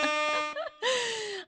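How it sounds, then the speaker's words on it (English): A brief air horn sound effect for a live online stream blares in two loud, droning blasts separated by a short gap, harsh and close. "Whoa. Air horn."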